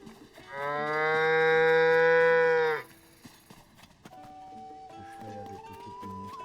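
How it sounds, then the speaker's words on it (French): A cow in the video game Zelda Tears of the Kingdom gives one long, loud, steady moo of about two seconds, followed by quieter in-game music and ambient sounds. "On n'a jamais vu de vache de notre vie encore. C'est incroyable cet animal."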